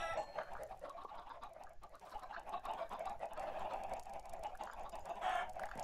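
A dense chorus of Minecraft chickens clucking continuously, many birds at once, steady and moderately loud, with no speech.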